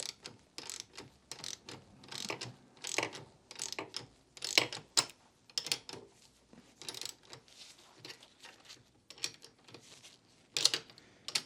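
A socket wrench ratchets as bolts are tightened on a motorcycle's rear shock linkage. Quick, irregular bursts of metallic clicks come from close by, with short pauses between strokes.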